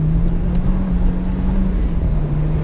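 A Honda Civic Type R driven hard on a track at full throttle through sweeping corners, with a loud, steady engine drone and heavy road and wind rumble from inside the cabin.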